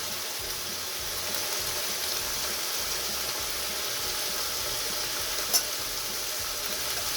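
Turmeric and Kashmiri red chilli powder sizzle in hot oil in a kadhai, a steady, close frying hiss with faint stirring and one sharp clink of a spoon against the pan, no voices.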